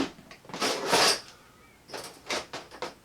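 Hands rummage through a drawer for spare dart blaster barrels, Stryker 2.0 upgrade parts, with clattering knocks and scrapes of loose hard objects in two bursts separated by a quieter pause.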